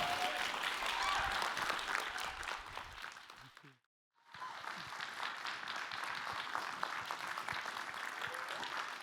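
Steady audience applause at a poetry club event, sustained and fairly dense, briefly dropping to near silence around the four-second mark before resuming at full strength.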